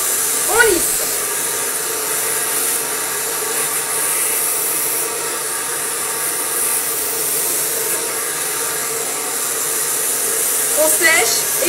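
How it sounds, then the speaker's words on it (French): A handheld hair dryer blowing steadily while hair is smoothed and blow-dried straight, a continuous close whooshing roar that stays even throughout, with brief faint rustles of brushing at the start and end. "Et voyez l'inclinaison de mon sèche-cheveux."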